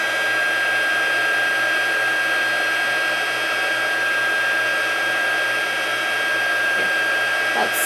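A heat tool blows steadily for heat embossing on a stamped card, a loud, continuous fan-like whoosh that holds without a break.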